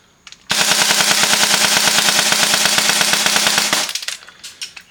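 An airsoft gun fitted with an ESHOOTER Flare Cube BT tracer unit fires a fast, loud full-auto burst lasting over three seconds, then goes quiet with a few faint clicks and knocks.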